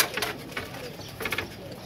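Pigeons of a flying breed make a few soft, brief coos over a low background hum, close by and fairly quiet, with no one speaking.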